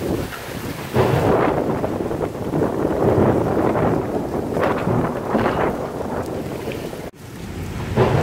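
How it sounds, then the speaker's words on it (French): Storm wind roars steadily at a campsite on a long-distance bike trip, with deep rumbling thunder swelling and fading underneath and buffeting gusts striking close to the microphone throughout. "C'est la tempête!"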